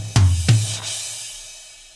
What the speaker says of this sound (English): Add a bit of a crash and a riser,